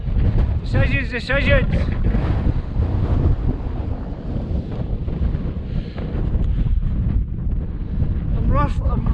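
Strong wind buffeting the microphone on an exposed mountain route above a quarry in the Applecross hills, a constant loud roaring rush under a man's brief spoken words.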